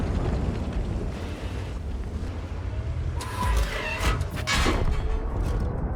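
A heavy tank gun in World of Tanks, fired from the Gryphon tank destroyer, lets out a booming blast followed by a few crashing impact bursts over a rumbling engine background, with no one talking.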